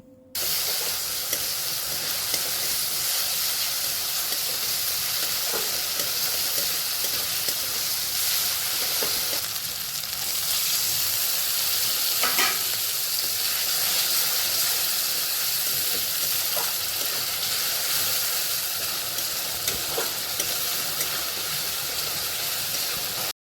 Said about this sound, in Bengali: এরপর সব মশলাগুলোকে একসঙ্গে ওই পেঁয়াজ আর রসুনের মধ্যে দিয়ে ভালো করে এবারে কষাতে থাকবো অনেকক্ষণ ধরে।